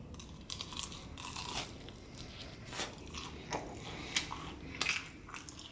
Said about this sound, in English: I got to chew this, make that noise just to see if this is crispy or not